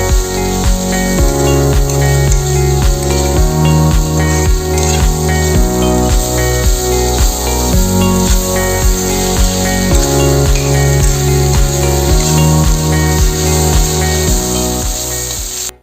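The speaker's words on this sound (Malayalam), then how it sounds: "ഇനി നമ്മൾ ഇതിലോട്ട് കട്ട് ചെയ്ത് വെച്ച് ടൊമാറ്റോ ആഡ് ചെയ്ത് കൊടുക്കാം" Chopped tomatoes hiss and sizzle as they go into a hot pan for tomato rice, a loud steady frying sound under strong musical accompaniment.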